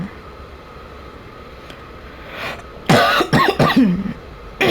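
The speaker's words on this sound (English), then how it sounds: "a lot of my audio is just going to be me coughing" A man coughs several times in quick succession, loud and close, a few harsh bursts after a quiet stretch of low background murmur from the game Hogwarts Legacy.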